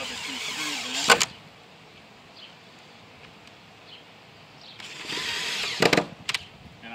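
A power drill drives screws into a wooden pen, giving two short whirring bursts, one near the start and a longer one near the end, with quiet shop noise between them.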